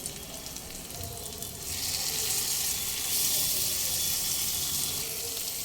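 A splash of hot water hits spiced masala frying with chili, coriander and cumin powder for aloo bhindi, and the gentle sizzle swells into a loud, hissing roar that holds steady and close.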